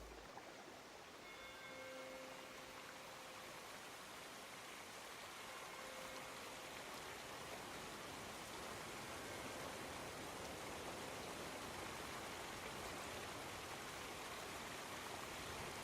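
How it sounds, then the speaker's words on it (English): River water rushes steadily in an even, broad hiss, faint and continuous, with a few brief distant tones early on. "Just listening to the water flowing"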